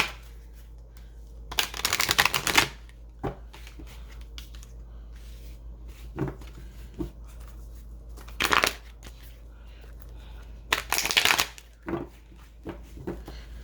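A deck of map cards is shuffled in three quick riffling bursts, each followed by soft taps and shuffles of cards being squared and handled close by, with quiet pauses between.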